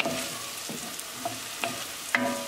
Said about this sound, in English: cook green chili along with tadka for 1 minute